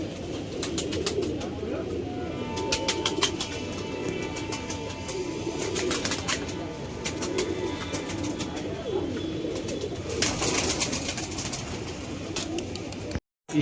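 Pigeons coo in soft repeated calls close by, amid a busy background hum and some clicking, with occasional voices talking in between.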